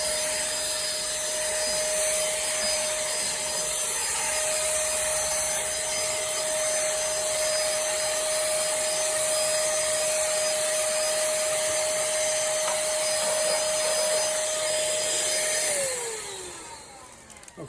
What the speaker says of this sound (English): And it sweeps as it vacuums.